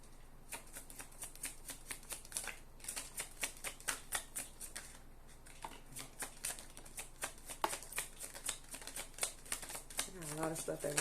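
Tarot cards are shuffled with a rapid run of crisp riffling flicks through most of the span, close and fairly loud, while a voice talks quietly underneath.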